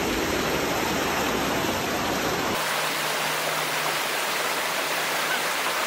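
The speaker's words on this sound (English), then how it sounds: "I can hear the raging water." A raging mountain river rushes in a constant, loud broadband roar near a Swiss half-pipe camp, its tone shifting abruptly partway through but never letting up.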